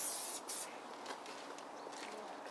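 An aerosol can of silicone spray hisses onto motorbike parts. A strong burst comes at the start, then several shorter, softer puffs follow, close up, with no talking.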